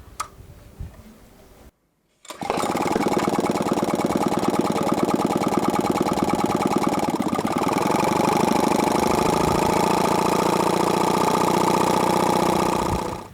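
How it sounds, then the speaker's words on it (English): Experimental twin-stroke compressionless engine with no muffler, starting after a brief gap and then running loud and steady with a fast, even ticking chatter that holds for over ten seconds. "What you're about to see is a demonstration of our working proof of concept of our twin-stroke compressionless engine."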